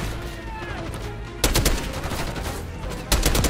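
Automatic gunfire in the video game Call of Duty: Black Ops 6, with loud rapid bursts starting mid-clip and again near the end over a background of game ambience.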